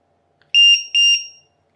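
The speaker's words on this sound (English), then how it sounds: "This is our LiPo alarm." A LiPo battery alarm plugged into a balance lead gives four sharp, loud, high-pitched electronic beeps in two quick pairs, close and clear with no talking.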